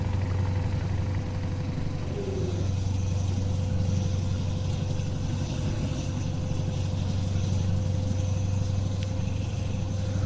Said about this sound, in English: listen to the engine work